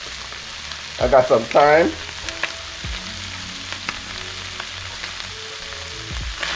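Onions and thyme frying in a pan for a saltfish dish, a steady soft sizzle broken by a couple of louder stirring scrapes near the start, with a brief voice over the top.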